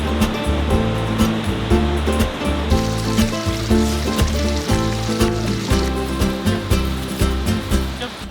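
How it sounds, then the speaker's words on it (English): Water rushes over a series of waterfalls along a river trail in a Maine gorge, a loud, churning roar with low rumbling surges that continues for about eight seconds without speech. "there's just waterfall after waterfall after waterfall"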